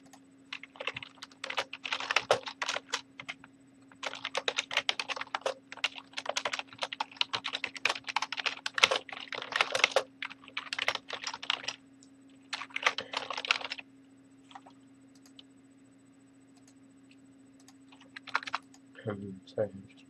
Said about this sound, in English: sorry, I'm just typing there.